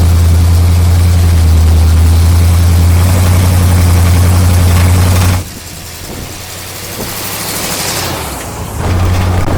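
A 1974 Corvette Stingray V8 rumbles loud and close from inside the stripped cabin while driving down a street, a deep steady drone that drops off midway as it shifts, then builds again.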